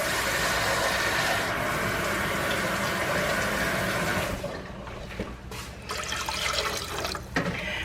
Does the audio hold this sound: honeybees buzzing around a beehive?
no